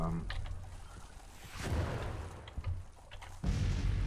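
Cannon fire in the Civil War strategy game Grand Tactician: The Civil War, with several dull distant booms and rumbling bursts under a voice.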